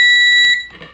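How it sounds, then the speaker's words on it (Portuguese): Continuity beep from a HIKARI HM-2090 true-RMS digital multimeter as its two probe tips touch: a steady, loud electronic tone held for about half a second, then cut off, with no talk. "vai encostar uma ponta na outra, você tem o BIP"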